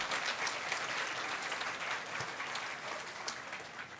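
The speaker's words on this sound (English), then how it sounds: "Can the graduates stand and give a round of applause to your support folks back there?" Graduates at a nursing school commencement ceremony stand and applaud their families and supporters. The clapping is dense and continuous and tapers slightly toward the end.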